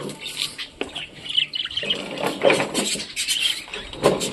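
A pair of rainbow budgerigars in a cage give sharp chirps, squawks and scratchy chatter in uneven bursts, fairly close, with light pattering movement.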